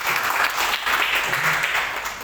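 A church congregation at a worship service in Batam claps together, a dense, steady wash of applause filling the full stretch without a break.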